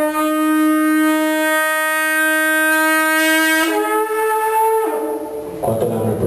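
An ancient horn blown in one long, loud, steady blast that steps down in pitch twice near the end before breaking into a rougher tone.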